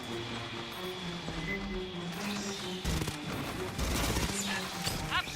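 A smart gun fires in the game Aliens: Fireteam Elite, rapid automatic bursts that crackle and rattle amid other combat noise, with a low hum beneath and a voice speaking faintly.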